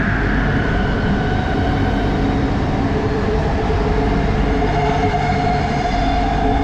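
Interior of a Kuala Lumpur LRT train at night, running between Pasar Seni and KLCC stations; a loud, constant low rumble and rolling rail drone with a faint whine above it, steady throughout and with no voices.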